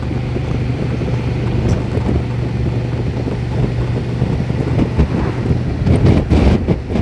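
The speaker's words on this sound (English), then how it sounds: "the wind blast is so strong" Strong wind blasts across a motorcycle rider on a countryside tour, producing a loud, continuous buffeting roar over a low engine drone, gusting harder toward the end.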